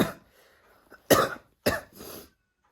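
Two or three sharp, close coughs in quick succession, with a short raspy tail after the last, from someone with a cold.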